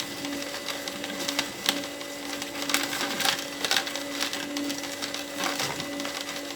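A juicer machine grinds carrot, celery and apple with a steady whirring hum, crunching and cracking as the produce is crushed, near and moderately loud throughout.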